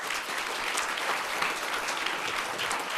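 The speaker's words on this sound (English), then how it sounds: "Why don't you give a big round of applause?" Steady, dense applause from a seated audience at a global news forum, continuous and evenly loud throughout with no talking.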